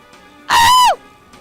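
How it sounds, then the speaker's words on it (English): A giant bird in the video game Zelda Wind Waker lets out a single loud, screeching caw lasting about half a second, with a falling cry at the end, over quiet game ambience. "Uh-oh, the bird's back."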